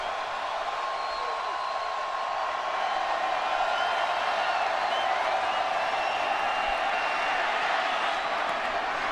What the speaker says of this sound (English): the crowd coming to their feet at 3rd down and 16